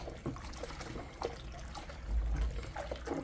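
Homemade neutral liquid detergent being stirred, a foamy soap mixture sloshing and trickling in a container, with soft irregular liquid swishes and a low rumble, close and moderate in level, no talking.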